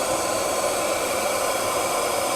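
A powerful extractor runs with strong suction, a loud, steady, close airy roar without variation and no voices.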